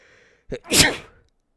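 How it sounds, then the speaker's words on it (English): A single loud, close sneeze with a short sharp intake of breath just before it, then silence. "I had to sneeze there."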